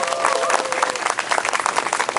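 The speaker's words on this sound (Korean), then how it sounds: "다시 한번 큰 박수 보내드리기 바랍니다." Applause from a crowd of students and citizens at an outdoor press conference where high school students read a political declaration, steady, dense clapping throughout, fairly loud and close.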